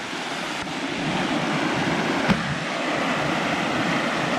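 The waterfall on Lepper Brook makes a steady, full rushing roar that holds constant throughout, with one brief tap partway through.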